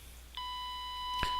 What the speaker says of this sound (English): I'm trying to adjust the 1000 Hertz tone so that as I increase the volume, it no longer gets louder